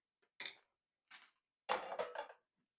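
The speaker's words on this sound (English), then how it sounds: "Now we will add the bananas." Bananas dropped into a mixing bowl for banana bread, a few separate soft plops and knocks spread over a few seconds, quiet and close with no talk.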